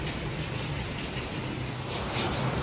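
Steady rain falls as a dense, even hiss throughout, loud and close, with no voices over it.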